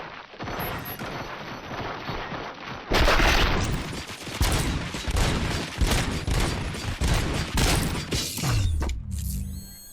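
Sustained automatic gunfire in the video game RoboCop: Rogue City, loud dense bursts of shots with clanking mechanical impacts, running nearly continuously before tapering off at the end.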